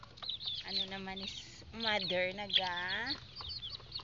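Chickens cluck and croon close by, with drawn-out warbling calls and short clucks over faint background noise.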